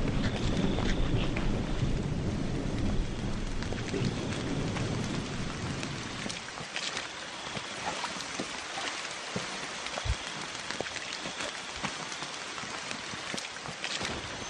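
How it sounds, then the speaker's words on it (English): Steady heavy rain pours at night in the countryside of Hoa Binh, Vietnam, a dense close hiss of drops that eases slightly partway through, with scattered heavier splats and no talking. "we're out here on this rainy night hoping that the rain doesn't come down"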